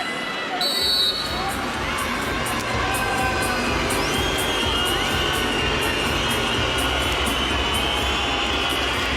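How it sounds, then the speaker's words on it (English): A packed handball arena crowd roars and cheers continuously at a world championship final between Norway and Denmark, a loud, dense wall of noise with whistles and horns blaring throughout. "it is so noisy in the arena they could barely hear the whistle"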